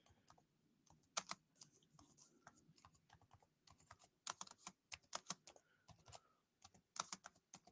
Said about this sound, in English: Let me just type down here to fast forward.